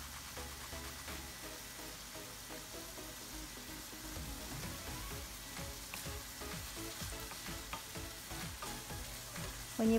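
Ground beef sautés with chayote, carrots, onions, tomatoes and garlic in a pan, giving a constant low sizzle under repeated scraping strokes of a utensil as everything is stirred, with no talk.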